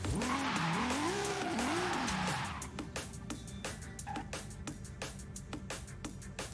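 A car in a video game screeches with squealing tires and a revving, wavering engine for a couple of seconds, then settles into a quieter rolling drive with repeated clicking or ticking, fairly loud and with no talk.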